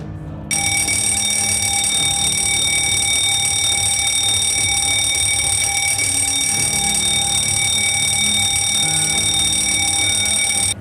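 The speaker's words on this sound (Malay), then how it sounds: "Apabila murid-murid mendengar loceng berbunyi panjang, sila patuhi arahan guru." A school fire drill bell rings in one long, continuous, loud electric tone with steady harmonics, sustained for about ten seconds with no talking.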